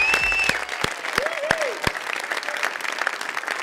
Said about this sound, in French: Je voudrais qu'on donne une très grosse main d'applaudissement à Joe Anders.